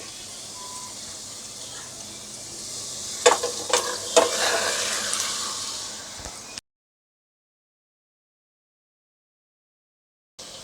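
Washed duck meat drops into hot sizzling masala, setting off a loud burst of frying hiss with stirring scrapes that fades and then cuts to silence partway through.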